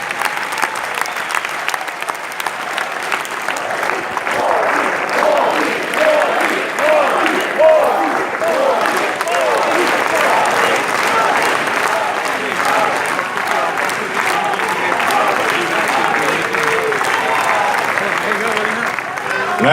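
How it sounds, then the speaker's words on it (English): Prime Minister Narendra Modi receives sustained applause from a large crowd at an event in Singapore, a loud, dense and unbroken clapping roar lasting the full length, with faint voices mixed in. "Let's give him another big round of applause"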